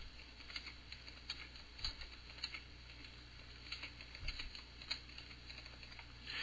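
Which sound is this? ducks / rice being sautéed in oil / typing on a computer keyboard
typing on a computer keyboard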